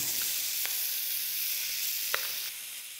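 Pieces of sea bass searing in a hot pan give a steady, close sizzle throughout, with a couple of faint clinks or turns breaking through the frying hiss.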